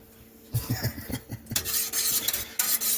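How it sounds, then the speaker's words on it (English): A spoon stirs redneck oyster stew in a metal pot, scraping and clinking against the sides in quick irregular strokes, close and fairly quiet, with a low hum in the background. "You have to stir it constantly"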